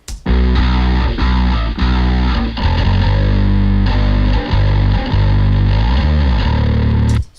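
Heavily distorted bass line layered with a clean low sub-bass, playing a steady rhythmic pattern of sustained notes, loud and continuous with no voices.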